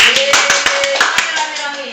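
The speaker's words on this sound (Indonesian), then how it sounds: "Tepuk tangan." Quick, sharp hand claps from a school audience at a vocational high school sharing session in Surabaya, about nine distinct claps in a short uneven burst with a voice talking beneath.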